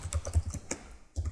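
Someone types a Linux terminal command on a computer keyboard. About a dozen quick, close keystrokes clatter out, then a short pause, then a couple more keys.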